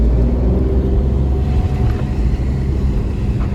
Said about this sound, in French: si j'accélère, ça accélère